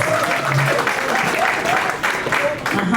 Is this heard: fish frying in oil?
no